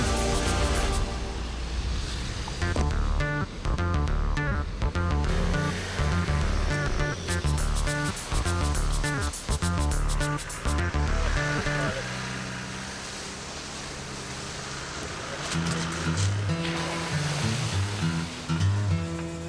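A vehicle churns through deep water, with a loud continuous rushing and splashing surge over an engine drone that eases slightly midway before building again.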